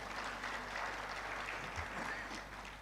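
Sustained applause from a graduation ceremony audience at a University of South Africa event in Ethiopia, steady and dense throughout, with faint voices mixed underneath.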